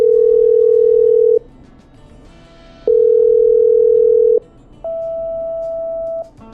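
A call is patched through in a video game and a telephone dial tone plays as loud, steady beeps: two long tones of equal pitch with short gaps between them, then a slightly higher third tone.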